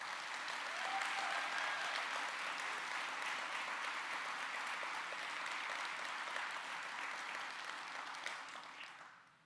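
A large convocation audience at a college gives a long, even round of applause for the Board of Trustees, heard at a moderate distance and fading out quickly at the end.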